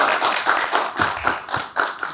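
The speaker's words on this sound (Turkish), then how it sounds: "Kocaman alkış." Applause in a comedy talk show studio comes as a series of close, loud, rhythmic claps in distinct bursts, like a small group or single person clapping hard.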